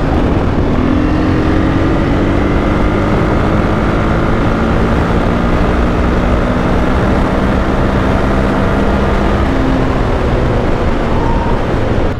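A 2021 KTM 500 EXC dirt bike cruises on the highway, its engine holding a steady, loud droning note with slowly shifting pitch, buried in constant rushing wind noise for the whole stretch.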